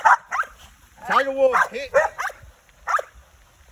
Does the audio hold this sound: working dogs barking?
yes